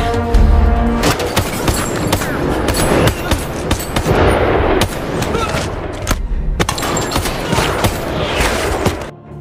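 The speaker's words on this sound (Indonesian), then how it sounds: "anak buah Axel tiba di sana dan menyerang mereka, di mana William akhirnya ditembak mati oleh Axel" Gunfire in an action film scene where henchmen storm an apartment building, dense bursts of shots and impacts filling the clip with a loud, continuous, chaotic battle and faint voices underneath.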